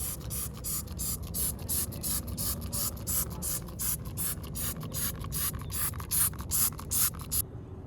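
Rapid, repeated squirts of glass cleaner from a spray bottle on a car, a steady run of short hissing bursts close by, with rubbing under them and no voices.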